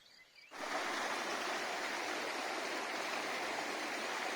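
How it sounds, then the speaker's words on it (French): The Siauve, a small stream in the Creuse gorges near Anzême, flows in a steady, close, fairly loud rush of water that swells in after a quiet half-second start and then holds evenly. "Ce petit ruisseau, c'est la Siauve qui se cache."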